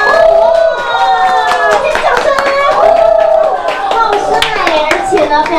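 Applause welcoming a guest host at a charity spa store event, rapid hand claps from a crowd mixed under lively voices and children talking, loud and close throughout.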